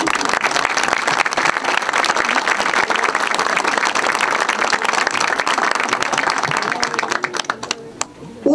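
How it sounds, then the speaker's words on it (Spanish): Sustained applause from an audience at a community event honoring settlers of a housing camp, dense steady clapping throughout with a few voices mixed in, tapering slightly near the end. "pido un aplauso para los colonos."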